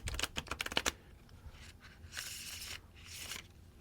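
A tarot card deck is shuffled close up and quietly: a quick run of crisp riffling clicks, then softer sliding and rustling bursts of the cards.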